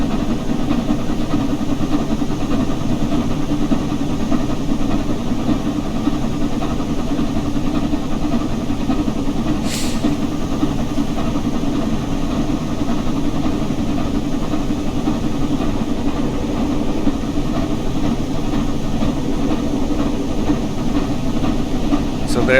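The Flying Scotsman steam locomotive runs along the line, a continuous loud rumble and rhythmic chug of wheels and machinery from on board, with a brief sharp hiss partway through.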